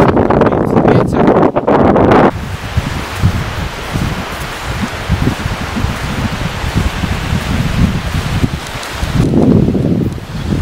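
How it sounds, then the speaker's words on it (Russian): Strong wind buffets the microphone on a seaside walk, a steady roaring broadband rush that runs throughout with louder gusts at the start and end; no one speaks. "А так, в целом, мне погода нравится, хотя вот ветер."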